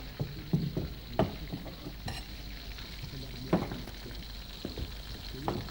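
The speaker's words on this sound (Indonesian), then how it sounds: "kita nanti tumis bersamaan di sini ya" Ground chili, bay leaves, lemongrass and tomato sauté in a pan with a steady close sizzle, punctuated by scraping stirs and soft clatters.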